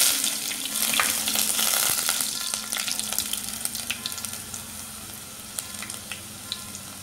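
Chopped shallots, garlic and ginger hit hot oil in a pan for a Kerala-style spicy tuna curry, giving a loud, bright sizzle that settles into crackling pops as it fades over several seconds.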